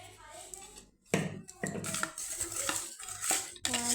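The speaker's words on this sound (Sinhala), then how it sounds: "මැස්සු බෙදලා මේකත් හොඳට කලවම් කරනවා දාලා." Bilimbi pickle being stirred together with dried sprats in a bowl, a spoon scraping and clinking against the dish in several short bursts, close up, with a voice speaking over it.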